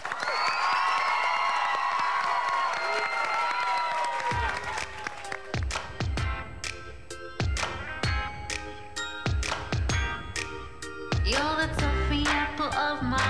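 An audience of dance moms claps and cheers loudly for Mackenzi's dance solo, a dense burst at first, then breaking into scattered sharp claps and whoops that thin out and pick up again near the end.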